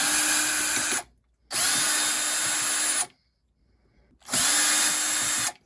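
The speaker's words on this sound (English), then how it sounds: "Then we got to pull off these screws to get the rest of the way out." Cordless power drill backing screws out of a Whirlpool water softener plate, three loud close whirring bursts separated by brief pauses.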